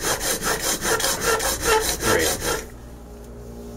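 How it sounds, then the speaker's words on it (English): A steel scraper plane blade, tempered softer than normal plane blades, is rubbed back and forth on a sharpening stone for lutherie work, making about ten rhythmic close rasping strokes that stop abruptly near the end; a single word is spoken. "So the sharpening goes fairly fast."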